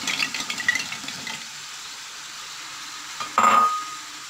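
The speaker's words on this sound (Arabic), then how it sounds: "وغادي نخلط هاد العناصر." Chickpeas and other ingredients for Moroccan couscous are stirred and fried in a pot, a scraping, sizzling burst at the start that fades to a quiet hiss, then a brief loud clatter of the spoon against the pot.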